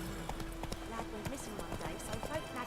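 Hooves of the horse Roach clip-clop in a steady walking rhythm through The Witcher 3, close and clear, with a voice speaking over them.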